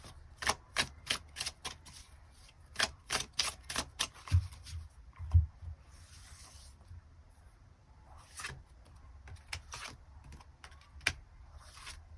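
Additional tarot cards drawn and shuffled for a love reading, making a quick close sequence of sharp card flicks and slaps, then sparser taps and soft shuffling, with no voices.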